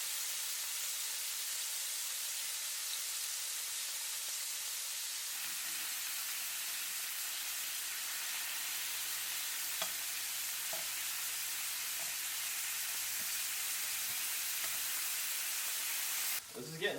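Seasoned deer meat sizzles and fries in a skillet, a steady close broadband hiss that runs almost the whole time with a few faint clicks of stirring, and a louder clatter right at the end.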